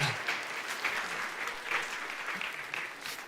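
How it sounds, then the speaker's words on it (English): Church congregation clapping for small group leaders, a moderate steady round of applause lasting the whole stretch, somewhat distant and without speech. "Yes, let's clap."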